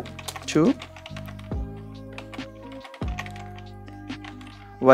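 Keys tapped on a computer keyboard while entering text for a logo design, a quick cluster of light clicks under steady background music with a few sharper accents.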